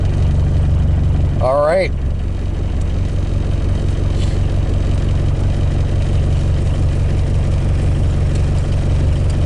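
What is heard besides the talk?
diesel engine cold starting and idling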